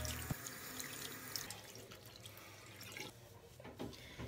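Running tap water splashes quietly over a synthetic wig cap being rinsed in a sink, a faint, continuous trickle with a few soft drips and splatters.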